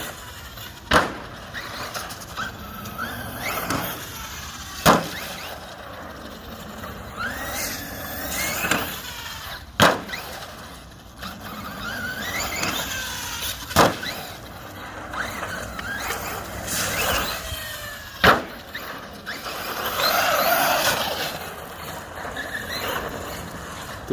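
A REEPER American Force Edition 1/7-scale RC monster truck runs and jumps repeatedly in a skate park, its motor whining and surging between sharp landing thuds that recur every few seconds, with no talk over it.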